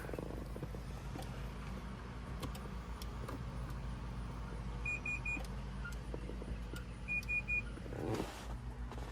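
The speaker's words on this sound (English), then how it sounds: "It's beeping." A car jumper pack emits a few short, high electronic beeps in two brief pairs, faint against a low steady hum of a garage or car interior, with scattered clicks and handling noises.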